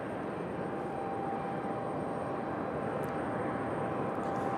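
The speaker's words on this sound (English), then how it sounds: "Got an A319 on departure from Delta." A Delta Airbus A319 departs Raleigh-Durham International Airport, its jet engines giving a steady, even broadband roar at a moderate distance that holds unchanged throughout.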